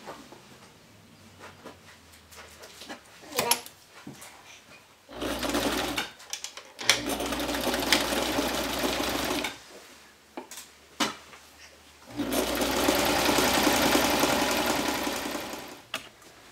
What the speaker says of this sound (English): we're just going to sew a seam, and it's going to be 5/8 inch seam allowance